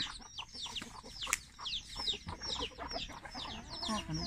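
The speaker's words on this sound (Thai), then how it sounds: "เอาข้าวให้ไก่เจี๊ยบ" Chicks peep and cluck in a rural Thai yard while being fed rice, a busy cluster of short chirping calls close by over soft background noise.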